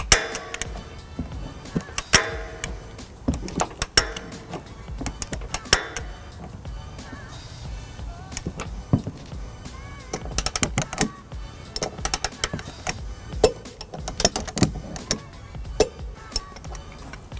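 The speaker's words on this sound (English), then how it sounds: "we've got our torque wrench here with a 17mm socket" Torque wrench with a 17mm socket tightening trailer hitch bolts on a 2020 Kia Niro to 42 foot-pounds, giving a string of sharp close ratchet clicks in irregular bursts, no talking.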